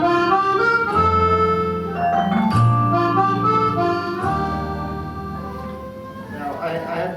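Mellow sustained tones from combined vibraphone and musette accordion synth sounds, a shimmering, reedy accordion-like quality blended with bell-like mallet notes, playing a slow chord progression.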